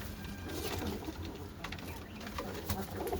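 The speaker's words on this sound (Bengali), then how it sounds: "এই যে সব পায়রাগুলো বসা" Pigeons coo softly in a pigeon loft, low repeated calls over a rustling background with faint movement noises.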